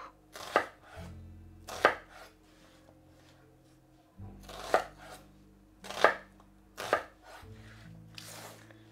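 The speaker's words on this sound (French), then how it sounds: "je vais couper l'oignon vraiment en gros morceaux" A knife chops an onion into large pieces on a board, with six sharp, close thuds at uneven intervals and quiet in between.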